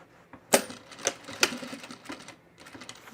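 A sewing machine stitches a bag in short, irregular bursts of mechanical clatter and sharp ticks, close and fairly quiet, with brief pauses between runs.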